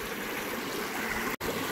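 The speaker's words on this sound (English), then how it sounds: "you're gonna have to traverse this babbling brook to get to the trails right there." A babbling brook on a trail near Donner Lake, California, gives a steady, close hiss and gurgle of flowing water with no pauses.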